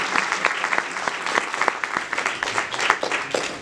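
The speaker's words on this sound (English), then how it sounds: "you deserve a good round of applause" A short, moderately close round of applause from a small audience at a book launch for a short story anthology, with individual claps audible in a brisk, uneven patter.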